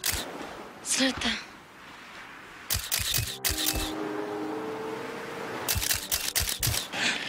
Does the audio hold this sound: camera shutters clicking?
yes